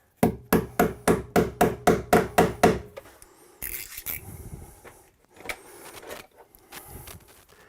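A staple gun drives staples to fasten electrical wire to a wooden joist during bathroom wiring, first in a fast run of about nine loud, evenly spaced, close-up clacks, then scattered handling, rustling and scraping.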